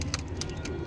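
Pigeons cooing with a few soft coos rising over a steady low murmur of room noise, close and continuous through the short moment.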